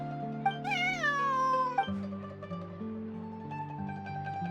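Cat meows in the Genshin Impact video game: one long, drawn-out rising and falling meow, then a shorter one, set over a steady sustained music backing at moderate volume.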